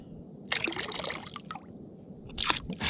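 Fresh water is skimmed by hand outdoors on an abandoned beach, with close wet sloshing and squishing splashes in two bursts and a quieter trickling stretch between them.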